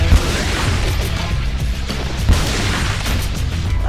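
Booming shotgun blasts from the Resident Evil 4 video game, loud and low-heavy, with sharp hits near the start and around the middle over a dense, rumbling game soundscape.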